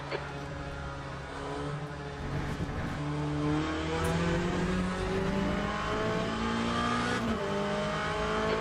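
An engine note in the Le Mans Ultimate racing game rises in pitch as a race car approaches and passes, steady revving with gear changes, fairly loud and close.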